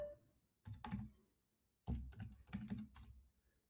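Computer keyboard keys clatter in two short bursts of quick typing, the second burst longer, close up and fairly quiet while a git clone command is entered.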